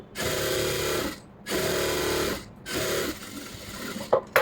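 Sewing machine stitching a lined blouse sleeve in loud, close bursts: three long runs of steady motor whir separated by brief pauses, ending with a few short clicks.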